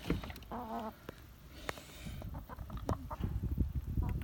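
Hens in a backyard flock cluck and murmur close by. One gives a short, clear call over rustling and scuffing ground noise.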